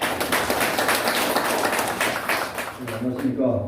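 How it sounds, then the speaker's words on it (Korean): Audience clapping at a lecture event for a civic forum and veterans' association, a loud dense patter of many hands close by that thins near the end as a voice starts. "우리 권 총장님 큰 박수로 와주시기 바랍니다"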